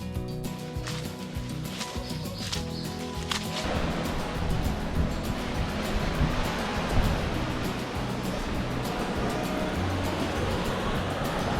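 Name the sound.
ocean waves at Black Beach, Dominica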